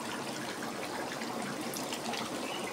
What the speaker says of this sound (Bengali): আমার কষানো হয়ে গেছে, আমি এবার দিয়ে দিচ্ছি জল।